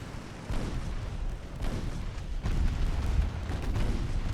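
Six-inch naval guns firing in the warship game Ultimate Admiral Dreadnoughts produce about three heavy, muffled booms spaced a second or so apart over a continuous low rumble, with no voices.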